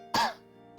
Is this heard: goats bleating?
no